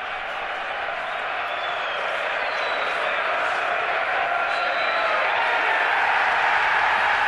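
Crowd in a PlayStation VR demo game: a dense, continuous roar of cheering and clapping that holds steady and swells slightly over several seconds, with no single voice standing out.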